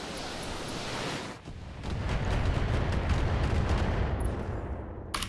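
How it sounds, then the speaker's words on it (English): LRM missile volley fired by a mech in the video game Battletech, a rolling barrage of rapid thudding launches and blasts that swells after a brief lull and carries on loudly to the end. "Shoot at him with only one LRM, but do focus your fire"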